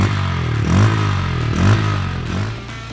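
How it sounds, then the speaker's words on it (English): A Bajaj Pulsar N160 motorcycle engine idles with a deep, bassy note from its underbelly exhaust, rising in two short throttle blips, close and loud. "Cranking the engine up, what is immediately likable is the bassy note from the underbelly exhaust."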